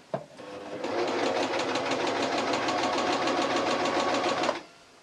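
Sewing machine stitching a seam on a T-shirt, running steadily for about four seconds after a brief handling noise, close and even with a fast rhythmic whir, then stopping.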